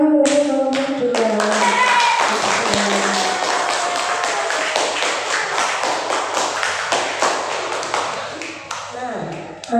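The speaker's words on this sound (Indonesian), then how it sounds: "Tepuk tangan untuk kelompok 2." Classroom of fourth-grade pupils breaking into loud, sustained clapping for group two, dense and close, gradually thinning toward the end, with a few voices mixed in.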